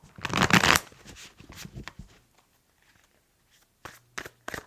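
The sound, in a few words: shuffling a deck of tarot cards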